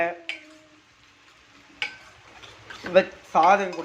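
Gongura leaves are stirred in a frying pan, giving a few scattered scrapes and soft sizzling bursts against a quiet background, growing busier toward the end.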